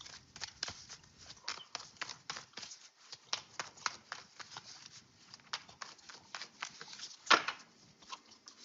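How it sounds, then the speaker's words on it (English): Tarot cards being shuffled by hand, a run of soft rapid riffles and light slaps in uneven bursts, close and fairly quiet. "That was a lot of shuffling."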